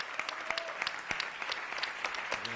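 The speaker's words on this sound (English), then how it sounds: "Let's give them a big round of applause." An audience claps for the Captain Marvel cast at a live panel, a short burst of scattered, fairly distant applause with distinct individual claps.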